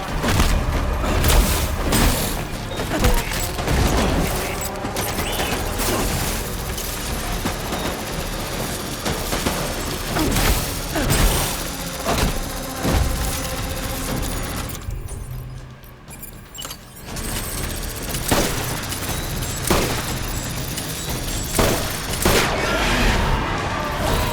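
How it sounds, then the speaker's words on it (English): Dense, sustained gunfire and booming blasts from a battle in the video game Death Stranding, loud and continuous with rapid overlapping shots, briefly dropping away midway before resuming. "Open fire!"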